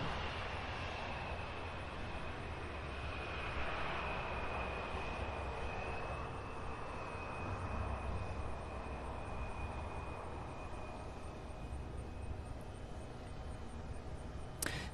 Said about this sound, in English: 3-year-old aircraft landing on 18 left.